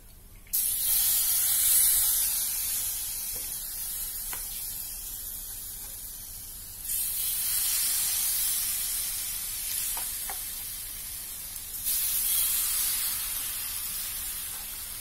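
Peanut crackers (peyek) fry in hot oil, a loud, close, continuous sizzle and spray that surges in three waves as batter is ladled near the oil's edges, with no talking.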